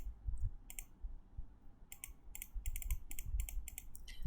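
Mouse clicks while working in Microsoft Word, a series of sharp, close clicks in irregular bursts over low background rumble, with no talking.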